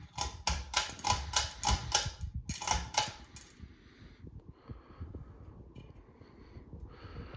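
A 50-inch Casablanca Panama II ceiling fan with light kit running on medium speed in a bedroom, starting with a fast rhythmic mechanical clicking clatter for a few seconds, then settling to a quieter, steady whir.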